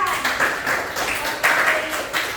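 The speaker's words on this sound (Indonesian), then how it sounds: "Beri tepuk tangan dulu untuk Nurpan." Classroom students clap for a classmate named Nurpan in a brief, fairly loud round of uneven applause, with a faint voice mixed in.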